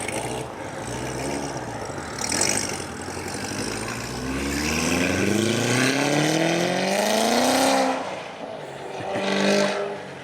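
A Carbon 65 C7 Corvette Z06 engine rumbles through its stock exhaust and revs up, its tone rising smoothly over several seconds before dropping back, moderately loud with a mellow exhaust note.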